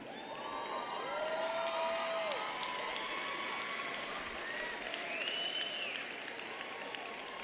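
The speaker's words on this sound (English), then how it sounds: "give yourselves another round of applause" At a university commencement ceremony for a college of social work, a graduating crowd gives a distant, fairly faint round of applause mixed with scattered cheers and whoops.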